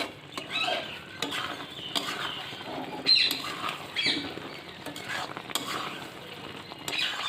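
A spoon stirs fried tempering into a jujube pickle in a pot, making rhythmic scraping and light pattering sizzle in repeated strokes, close and moderately loud.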